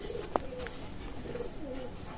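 A pigeon coos softly a few times nearby, low murmuring calls over a quiet background.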